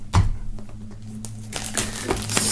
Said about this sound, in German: Wir werden die Folie mal entfernen, um uns das Ganze dann mal genauer anzusehen.